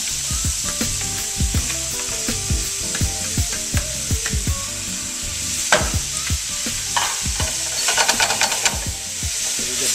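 Shrimp and bean sprouts stir-fry in a hot pan, a constant bright sizzle with repeated scraping and tossing strokes of a utensil, close and busy, no voices.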